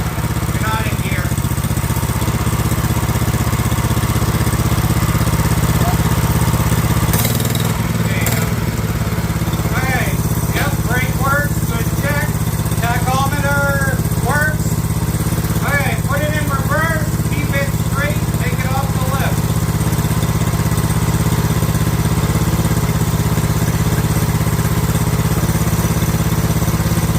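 A John Deere 110 lawn tractor repowered with a 7 HP 212cc engine runs at a steady, loud drone throughout, with people talking over the engine noise.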